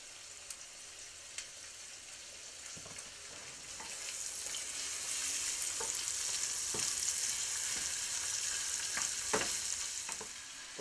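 Shrimp frying in a pan with a little salt and pepper, giving a steady, moderately loud sizzle that builds and holds, with a few faint clicks and taps of utensils and no talking.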